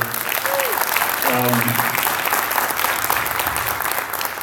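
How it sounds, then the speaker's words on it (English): Applause rising from the crowd at a press conference on the Mendocino Lake fire complex in Ukiah, steady dense clapping that fills the clip, with a brief tonal sound and faint voices near the start. "it's a round of applause for"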